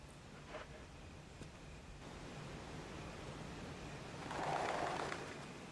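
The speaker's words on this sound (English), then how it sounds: "A raging waterfall." A raging waterfall in the haunted house game The Haunted Mansion gives off a steady, faint rushing wash of water noise that swells a little toward the end.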